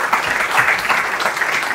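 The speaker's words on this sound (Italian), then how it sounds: "anzi facciamo un altro applauso ai club" An audience at a music-club press conference applauds in a brief, loud, continuous burst of many hands clapping, with no voices over it.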